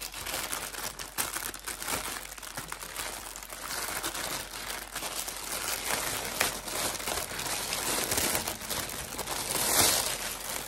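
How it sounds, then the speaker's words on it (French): A cross stitch parcel being unwrapped, with steady, close crinkling and rustling of packaging that goes on for about ten seconds and swells slightly near the end. "Donc c'est parti, on va déballer tous ensemble."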